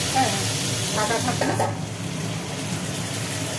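Malabar spinach stems sizzle steadily in hot oil, a constant bright hiss with faint stirring scrapes partway through, close and fairly loud.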